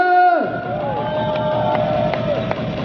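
A crowd cheers and roars at a Downmall mountain-bike race inside the MyZeil shopping mall in Frankfurt. A sustained, echoing wall of shouting follows a brief voice at the start.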